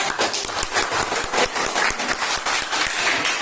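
Classroom clapping during an economics microteaching lesson, a small group of students applauding with distinct, fairly close individual claps in a quick irregular rhythm.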